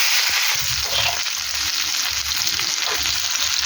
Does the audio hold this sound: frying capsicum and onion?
yes